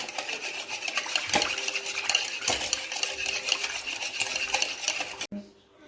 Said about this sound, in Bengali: এটাও আমি এখন ভালো করে মিশিয়ে নেব।